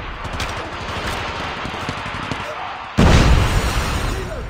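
A grenade blows up in a multiplayer shooter game during a firefight: a sudden loud, heavy blast about three seconds in rises over steady gunfire and combat noise.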